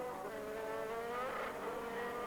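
Formula 3000 race cars at Silverstone in 1997 whine past at a distance, a high, rising and falling engine scream heard faintly but steadily.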